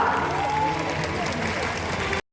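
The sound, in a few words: audience applause at bird of prey show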